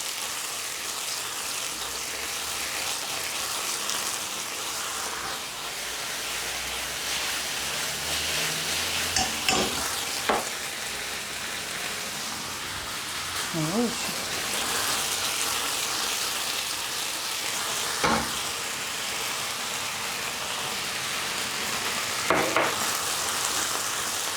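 Beef and white onion sizzle steadily in a stir-fry pan, a continuous hiss of hot oil broken by a few sharp clacks and scrapes of the utensil against the pan, with no voices.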